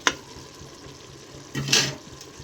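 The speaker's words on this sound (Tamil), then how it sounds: "அடுத்து கொஞ்சமாக கறி மசாலா தூள் அதையும் போட்டு கொஞ்சம் நல்லா வதக்கி விடுவோம்" Tomato masala with curry masala powder is sautéed in a pan: a low sizzle runs beneath two louder bursts of stirring and scraping, one at the start and a longer one near the end, with no voices.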